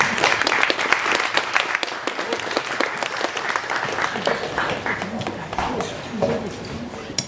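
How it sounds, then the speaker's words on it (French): An audience at a neuroscience conference bursts into applause: loud, dense clapping from many hands that slowly thins out over several seconds, with some voices and shuffling mixed in. "Maintenant, vous pouvez applaudir."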